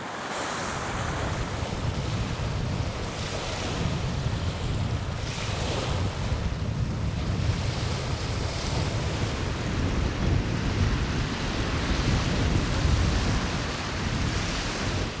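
Sea waves roll and break on the northern shore at Ust-Kara, a continuous loud surging wash mixed with heavy wind buffeting the microphone.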